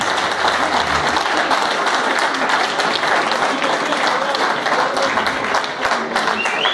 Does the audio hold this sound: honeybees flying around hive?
no